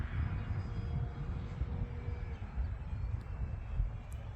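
FMS Pitts radio-controlled model biplane flying outdoors near a light pole, its electric motor a steady, fairly loud drone with wind rumble and no talking.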